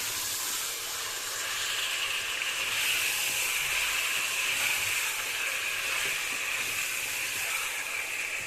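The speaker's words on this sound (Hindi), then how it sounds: "चिकन डालकर आप इसको थोड़ी देर भूनें कि इसका कलर चेंज हो जाए" Chicken sizzling and frying in a karahi, a steady bright hiss that holds evenly at moderate loudness with no talking.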